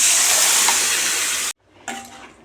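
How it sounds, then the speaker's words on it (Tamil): Mashed greens go into hot oil with a loud, close, bright sizzle and hiss that cuts off abruptly, then returns more faintly as stirring begins. "இப்போது இதில் கடைஞ்சி வச்ச கீரையை சேர்த்திக்கலாம்"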